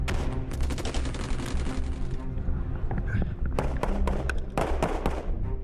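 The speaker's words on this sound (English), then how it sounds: "Live firing is critical to training soldiers to a level that they can deploy to Iraq, Afghanistan, or wherever they may deploy to" Live-fire gunfire at a British Army training area, with dense bursts of shots and heavy thuds overlapping in a rapid fusillade throughout, loud and sustained with no pauses.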